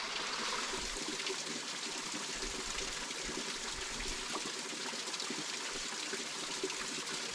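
A clear mountain river flows and gushes steadily nearby, a continuous soft rush of water with fine trickling detail and no voices.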